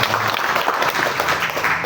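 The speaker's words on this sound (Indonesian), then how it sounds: "kita berikan tepuk tangan buat dia" Audience applause in a church gathering during a Thursday prayer service: steady, dense clapping from a crowd, continuous and fairly loud throughout.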